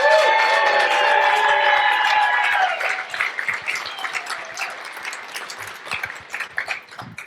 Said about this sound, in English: clap a lot